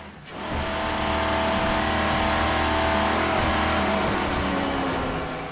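Engines of offshore powerboats roar steadily at the 2005 Sarasota Suncoast Offshore Grand Prix, including a Velocity VR1 open cockpit Factory 1 racer, a loud sustained drone rising at the start and holding.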